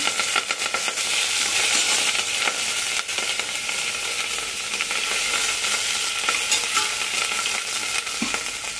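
Curry leaves, ginger and green chillies crackle and sizzle in hot ghee, a dense, steady frying hiss close up with occasional faint stirring clinks.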